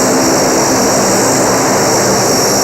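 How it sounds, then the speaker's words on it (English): A Marine Corps C-130 transport aircraft, Fat Albert, drones loudly with propeller roar at an air show, a continuous, powerful engine sound with no voices. "C-130 transport flown by an all-Marine Corps crew"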